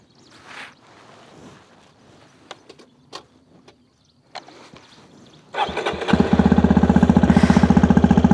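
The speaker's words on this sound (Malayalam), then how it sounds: "ഇനി നമുക്ക് ബൈക്കിൻ്റെ എക്സോസ്റ്റ് നോട്ടൊന്ന് കേട്ട് നോക്കാം." A Hero Xpulse 210 motorcycle starts after a few quiet clicks, then settles into a loud, steady, pulsing exhaust idle recorded close up.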